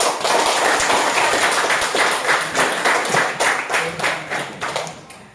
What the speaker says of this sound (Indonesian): Beri aplaus untuk Faiz